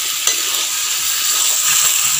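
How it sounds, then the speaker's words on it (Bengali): Meat sizzling and being stirred in a hot pan with turmeric and salt for chicken curry with goat fat, a steady close frying hiss broken by a few scraping stirs. "মাংসটা এবার ভালো করে কষিয়ে নেব"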